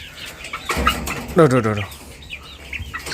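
A Sengkuni chicken clucks a few times nearby, short throaty calls standing out over low background noise.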